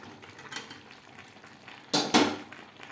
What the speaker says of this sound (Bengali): মাংসর সাথে ভেজে রাখা আলু বেশ ভালো করে মিক্স করে দেব মাংসের সাথে